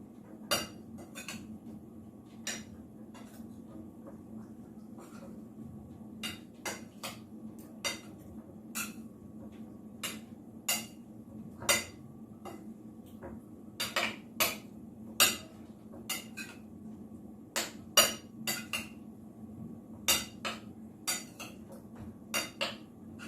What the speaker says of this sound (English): the mayonnaise and sour cream mixture. I'm going to mix that in here.